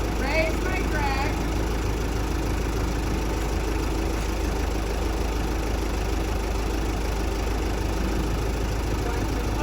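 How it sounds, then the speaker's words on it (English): A tractor engine runs steadily at idle, a continuous low rumble that holds even and close throughout, with faint voice-like tones briefly surfacing early on. "I will turn my tractor on"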